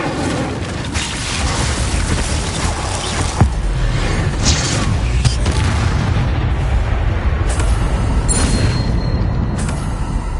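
Confringo blasting spell going off in Hogwarts Legacy, a booming explosive burst with a sharp crack near the middle, over a dense continuous wash of rumbling game noise and effects.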